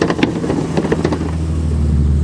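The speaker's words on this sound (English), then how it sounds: "All of the Series 3s had the V12 engine. They do sound very, very nice indeed." The V12 engine of a Jaguar E-Type Series 3 Roadster at a classic car show: a loud, steady, low rumble idling close by, with a few brief irregular pulses at the start before it settles into an even drone.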